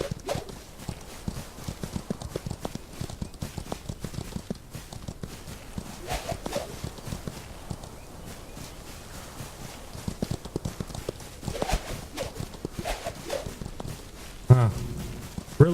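Horse hooves clip-clop steadily during a lasso taming mini game in the video game Outlaws of the Old West, a continuous rhythmic trotting patter at moderate volume with a brief game sound near the end.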